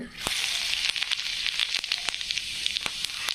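Cumin seeds hit two spoons of hot oil for a bhindi dish, making a close, bright, continuous sizzle broken by frequent sharp crackles and pops.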